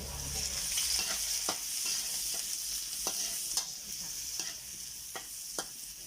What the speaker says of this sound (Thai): น้ำมันร้อนแล้วเราก็ใส่นี่แหละค่ะ หอมเจียวค่ะ